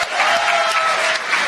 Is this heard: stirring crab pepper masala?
no